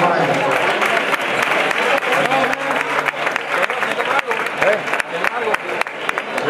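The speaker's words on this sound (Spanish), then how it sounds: "Un aplauso para ella." An audience at a flamenco album presentation in Seville applauds steadily and loudly throughout, with crisp overlapping claps and a murmur of voices mixed in.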